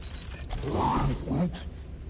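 A door opens in the video game Marvel's Guardians of the Galaxy with a mechanical grinding creak that swells over about a second, then a brief clunk, heard close over a low hum.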